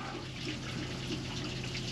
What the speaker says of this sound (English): And now the water's draining out.